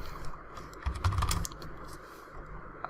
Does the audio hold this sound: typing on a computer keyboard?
yes